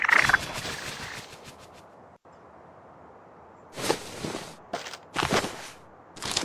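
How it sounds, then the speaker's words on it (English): A bird calls in the video game Tales of Xillia, a few short gobbling, fowl-like bursts in the second half after a murky, rumbling stretch, fairly close and moderately loud with no talk. "That's the bird that delivered the letter!"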